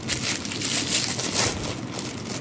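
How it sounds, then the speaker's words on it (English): Crinkling plastic packaging on a new water bottle as it is opened, a dense close-up rustle and crackle that runs continuously for a couple of seconds. "I will open it. Let's open it. See it. A lot of packaging."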